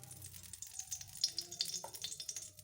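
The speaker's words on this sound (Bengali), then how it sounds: "এখানে কাজু কিশমিশগুলো ভেজে নিচ্ছি" Cashews and raisins fry in a small amount of ghee, giving a soft, close sizzle with light bubbling crackles and a few stirring scrapes, quiet and unbroken by talk.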